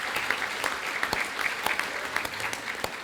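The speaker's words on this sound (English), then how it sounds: "let's give him a round of applause" An audience at a spring senior breakfast applauds a jazz combo leader, with steady, moderately loud clapping throughout the short stretch.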